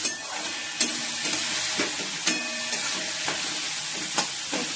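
Chopped garlic frying in hot oil in a pan, a constant close sizzle broken by regular spatula knocks and scrapes about once a second as it is stirred, with no voices.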